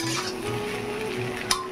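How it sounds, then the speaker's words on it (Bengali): Pumpkin greens and water spinach frying with potatoes in a pan, a soft steady sizzle with light scraping stirs and a brief utensil clink near the end. "এটা একটু ভাজা ভাজা হচ্ছে আলু দিয়ে।"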